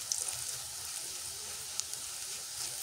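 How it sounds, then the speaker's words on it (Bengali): Spices sizzling steadily in hot oil in a pan while tempering for dal, a continuous crackling hiss with no talk. "এই যে এখন এটা ভেজে নিয়ে আমি এর মধ্যে হচ্ছে ডালটা ঢেলে দিব।"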